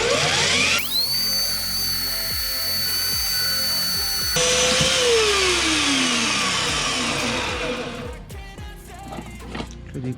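A loud power tool blade cuts through metal during a car driveshaft swap on a Peugeot 106, whining at a steady high pitch, then bogging down and winding off, close and harsh.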